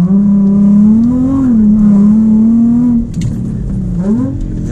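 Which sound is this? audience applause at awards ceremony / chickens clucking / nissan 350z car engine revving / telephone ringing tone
nissan 350z car engine revving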